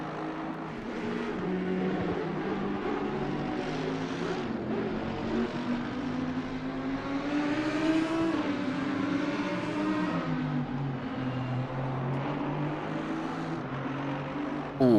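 Audi race cars in Assetto Corsa Competizione at Indianapolis make a continuous droning engine roar whose pitch rises and falls as they lap, steady and uninterrupted throughout, with no voices.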